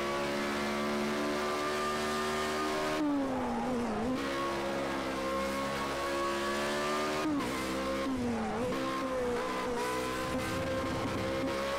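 Race cars in Project Cars 2 hold a loud continuous engine whine throughout, with two sharp gear-shift dips and re-revs, and a second engine drones faintly beneath; nobody speaks.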